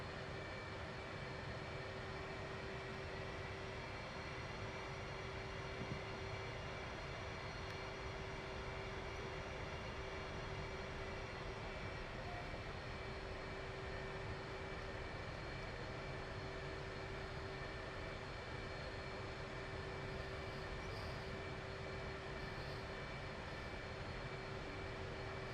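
F/A-18C jet taxiing to the runway, a steady even engine whine and rumble holding at constant level with a sustained tone throughout, no voices.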